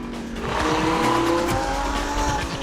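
Lamborghini Huracan LP580-2 driven flat out on a racetrack: a loud, close engine howl with shifting pitch while tires squeal and skid through a corner, sustained over nearly three seconds.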